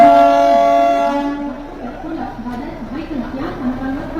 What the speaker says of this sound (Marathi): प्लॅटफॉर्म क्रमांक 2 वर आलेली लोकल 8 वाजून 23 मिनिटांची मुंबई छत्रपती शिवाजी महाराज टर्मिनसला जाणाऱ्या जल लोकल